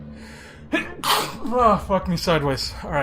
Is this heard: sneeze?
yes